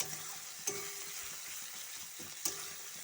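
Ginger and garlic paste frying in a pan for a country-chicken curry, a soft constant sizzle broken by a couple of sharp utensil scrapes and taps from stirring.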